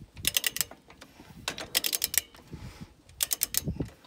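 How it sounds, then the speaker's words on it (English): A torque wrench with a 3¾-inch socket is cranked on a semi trailer wheel bearing install. It gives three bursts of rapid ratcheting clicks, close up and crisp, with short pauses between them. "Take the torque wrench, the 3¾-inch socket. Just keep on cranking her on until it goes."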